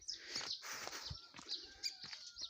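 Birds chirping in the mountains in the morning, several quick bright tweets and calls overlapping, fairly close but soft, with no talk.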